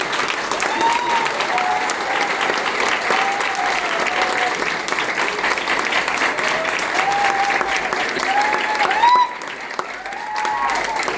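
Sustained applause from a large audience at a motivational business seminar in India, steady dense clapping throughout with a brief dip near the end, while a voice talks over it.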